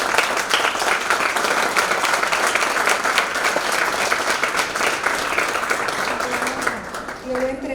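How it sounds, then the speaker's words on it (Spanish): An audience at a mental health forum award ceremony bursts into loud, sustained applause, dense rapid clapping from many hands that holds steady, then begins to thin toward the end. "me gustaría que le demos un gran aplauso a cada uno de ellos"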